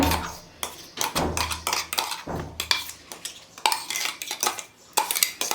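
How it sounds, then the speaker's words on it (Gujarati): A spoon scrapes and clinks against a steel mixer jar and vessel as prepared paste is scooped out, a quick run of close, loud clattering strokes with brief pauses between them. "સૌથી પહેલાં આપણે એક વાસણની અંદર આપણી તૈયાર કરેલી પેસ્ટ છે એને કાઢી લેવાની છે"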